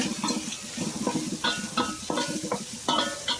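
Sliced onions and green chillies sauté in hot oil in a pan for chicken leg biryani, a soft sizzle under repeated scraping strokes of a spoon, with sharp metallic clinks against the pan at irregular intervals.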